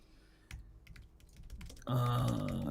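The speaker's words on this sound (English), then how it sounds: "I'm typing it" Typing on a computer keyboard, a run of close, crisp key clicks that starts sparse and grows denser and louder toward the end, with no talk.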